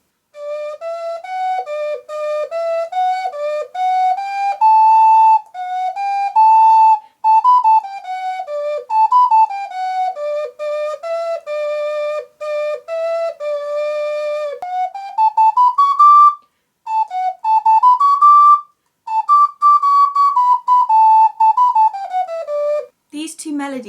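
An ocarina plays two cheerful major-key melodies, clear and loud, with smooth sustained notes stepping up and down in phrases separated by brief pauses.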